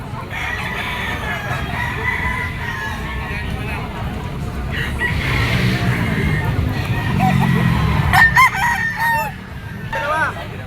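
A Kelso rooster crows nearby at a pet market over a background of murmuring voices and outdoor bustle, with clucking and a short burst of higher calls toward the end.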